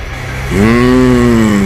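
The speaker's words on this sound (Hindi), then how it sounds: "ये आवाज वापस शेर की सी आ रही है मुझे" A cartoon lion lets out a loud, sustained roar that swells in suddenly and holds steady with a strong, tonal, moaning quality, alone with no talk over it.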